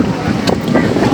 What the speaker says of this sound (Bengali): আমরা স্পিড বোট রাইড দিয়ে চলে এসেছি, এখন নেমে যাব